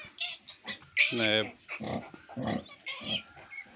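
Pigs grunt and squeal in a farm pen during the birth of piglets. There are several short oinks and one longer squeal, mixed with a person talking close by.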